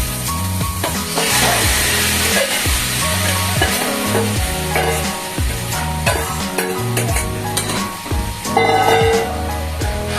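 Marinated mutton fries loudly in hot oil with onion and curry leaves, a steady dense sizzle broken by repeated scraping and stirring knocks from a spoon against the pan.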